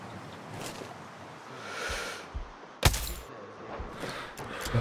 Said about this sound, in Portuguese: Tentar efetuar dois tiros.